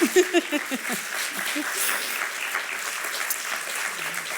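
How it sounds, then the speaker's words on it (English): An audience applauds during a university president's State of the University address at Salisbury University, opening with a few distinct claps and a faint voice before settling into sustained, moderately loud clapping. "And I think that deserves a round of applause"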